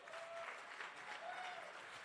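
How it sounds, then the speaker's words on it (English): Audience at a charity gala clapping, a steady broadband patter of many hands sustained throughout at a moderate, distant level, with faint voices mixed in. "Clap your hands, 5 towns."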